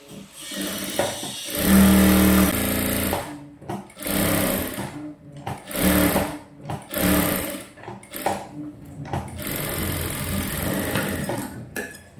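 A sewing machine stitches around a princess cut blouse in loud, close bursts of rapid whirring, several runs starting and stopping with short gaps between them.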